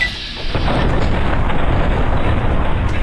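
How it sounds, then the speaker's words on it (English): Loud, dense gunfire and booming blasts from the video game Fallout: New Vegas, a sustained barrage of shots rumbling close and heavy with no speech over it. "Who's shooting me?"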